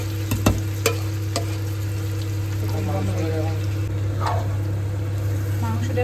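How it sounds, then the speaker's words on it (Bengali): Marinated meat frying in a pan over high heat, giving a steady loud sizzle with a constant hum behind it and a few sharp clicks early on. "এবার মাংসটা অ্যাড করব। গ্যাসটাকে একদম হাই হিটে রেখেছি।"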